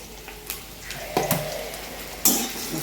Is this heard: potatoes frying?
yes